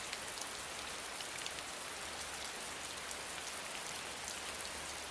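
Steady rain falling as a background nature sound from an assistive sensory app, a continuous even hiss of drops spread across the whole clip with no talk over it.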